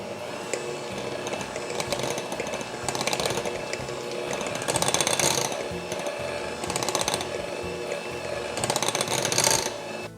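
Electric mixer beating cream cheese with room-temperature full-fat sour cream for mini cheesecakes, a steady loud whirring drone with rattling surges, close and continuous with no talking.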